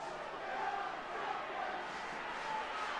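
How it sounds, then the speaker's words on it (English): Rugby league crowd of St Helens supporters at a match against Wigan chanting together, a broad, distant mass of voices rising and falling steadily as a continuous roar. "the crowd are calling they are the champions"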